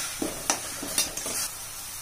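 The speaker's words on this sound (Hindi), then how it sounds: "इसको चलाते हुए मेल्ट कर लेना है" Jaggery is stirred in a pan over a medium gas flame to melt it, for flax seed laddoo: a few soft scraping strokes and light scrapes over a faint hiss, close and with no voices.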